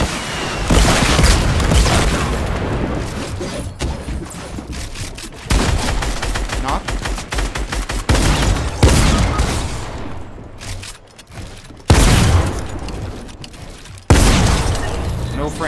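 RPG rockets and gunfire rip through a box in a Fortnite duos match, with repeated loud blasts, bursts of rapid shots and sudden explosive hits; players talk excitedly over the action.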